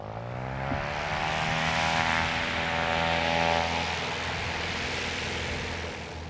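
Propeller-driven light aircraft in flight, heard from inside the cabin as a steady, loud engine and propeller drone with strong low harmonics, sustained without break.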